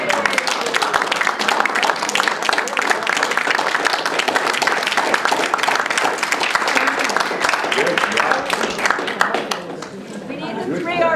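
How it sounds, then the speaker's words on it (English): At a watercolor society's annual meeting, a room of people breaks into a hearty round of applause, dense clapping mixed with cheerful chatter, tapering off near the end as voices take over. "I think it needs a round of applause."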